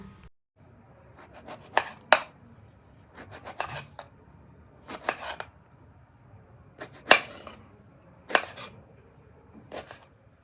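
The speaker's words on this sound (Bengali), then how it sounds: "এবার আমি বেগুনটাকে কাটবো।" A knife slices a long eggplant lengthwise on a board, giving about eight separate close scraping cuts at an uneven pace with quiet pauses between them.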